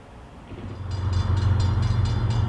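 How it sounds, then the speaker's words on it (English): A southbound freight stack train led by an ES44DC locomotive rumbles past nearby, its low roar building steadily with rhythmic clatter from the cars. "It turns out the signal is for a southbound stack train, led by an ES44DC."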